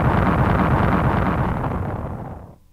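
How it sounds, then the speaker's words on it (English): A terrific explosion erupts as a loud, dense, sustained roar that rumbles with low-end weight for over two seconds, then cuts off abruptly into silence. "Suddenly, there was a terrific explosion, and all three of them dived to the ground."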